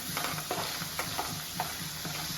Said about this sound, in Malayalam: ഇതിങ്ങനെ ഇളക്കി ഇത് നന്നായിട്ട് ഇതിനെ വഴറ്റി ഒന്ന് പാകാവുന്ന വരെ വഴറ്റണം.